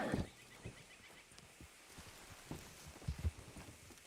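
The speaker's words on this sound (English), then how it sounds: "Damn horse" A horse in Red Dead Redemption whinnies briefly at the start near a corral, followed by scattered hoof clops and shuffling at moderate distance, with a second louder burst of movement later.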